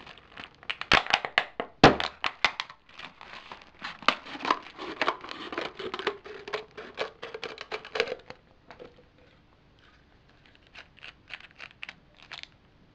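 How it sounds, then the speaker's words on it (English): A plastic bottle is cut through, giving a run of close, sharp crunching and cracking snips that are dense at first, then thin to sparse crinkles and stop. "first thing you need to do is cut the top off."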